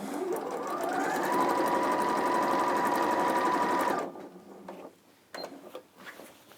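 A sewing machine runs fast and steady on dressmaking fabric for about four seconds, a close rhythmic whirring stitch, then stops abruptly and leaves a few small clicks and handling noises.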